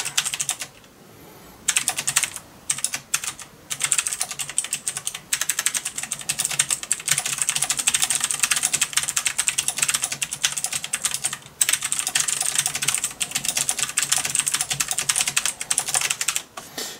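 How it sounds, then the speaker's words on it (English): Rapid, continuous typing on a mechanical computer keyboard, clicky keystrokes pattering close and loud with only brief pauses, no talking. "people could type without bottoming out keys, but even with the clicks, I just can't do it"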